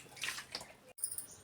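Faint splashing water poured over fish during cleaning, in short uneven bursts with a brief drop to silence partway through.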